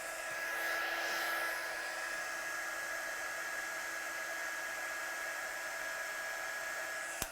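A heat gun blows steadily to heat-set embossing powder on a stamped watercolour card, a continuous close, loud airy whoosh with a faint whine that runs the whole time and cuts off with a click at the end.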